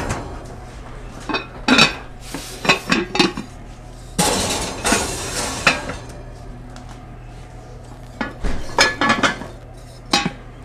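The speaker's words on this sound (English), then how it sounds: "we're going to put the pots in and let them start warming up." Enamel or cast iron bread pots with covers being put into an oven heating toward 500 degrees, with scattered metallic clanks, knocks and lid clinks in irregular bursts, close by and without talk.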